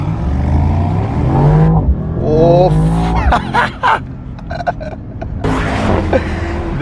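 Mercedes SL 63 AMG (2023) set to Sports Plus mode with sport exhaust, revving and accelerating hard, loud and close, with a rising engine note and a brief tire squeal; someone talks over it.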